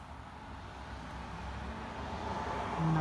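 A Nissan S13 hatchback engine idles with a low, steady rumble, faint and distant-sounding, swelling slightly toward the end, with no voices.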